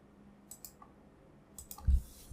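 Computer mouse clicks while selecting a folder: two quick pairs of soft, close clicks over quiet room tone.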